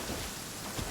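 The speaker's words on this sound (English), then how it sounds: "Uh-oh! Lightning storm! Oh, so you do realize it's raining." Rain pours steadily with a low rumble of thunder during a lightning storm in Genshin Impact, loud and continuous across the brief moment with no voices.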